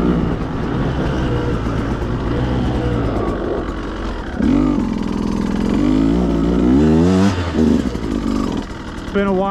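A Beta 200RR dirt bike ridden on desert trails, its two-stroke engine droning steadily, then revving up and down in rising and falling surges midway, loud and close beneath someone talking.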